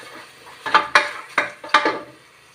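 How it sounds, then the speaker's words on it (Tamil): Mint and spices sauté for prawn biryani, with a spoon scraping and knocking against the pan in four or five distinct close strokes over a faint sizzle, no talk. "இப்போ இதையும் போட்டு நல்லா வதக்கும்"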